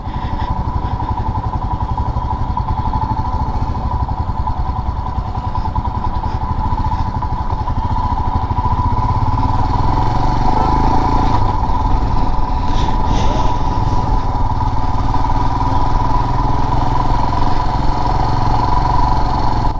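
A Royal Enfield Himalayan BS6 motorcycle's single-cylinder engine drones loudly and steadily throughout, its pitch holding fairly even with a slight swell midway, as the rider opens the throttle.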